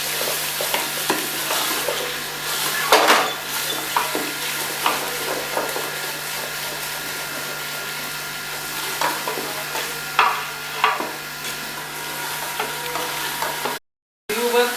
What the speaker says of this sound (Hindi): ये इसे थोड़ा सा और भून के इसमें मैं अपने कोफ्ते शामिल कर देती हूँ